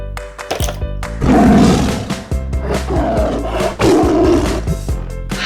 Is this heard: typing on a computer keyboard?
no